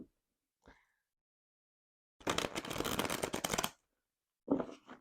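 Stiff tarot cards riffle together in a quick, dense burst of fluttering clicks, then a brief softer patter as they settle during a bridge, close up.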